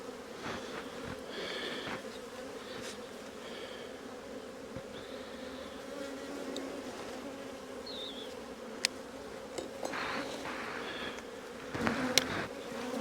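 Honeybees hum around an open hive, a steady low buzzing with occasional louder passes near the microphone and faint handling sounds.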